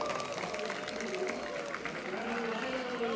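A crowd at the FTC Benelux Championship robotics event at the American School of The Hague claps and cheers for a team, a steady wash of applause running under an announcer's voice.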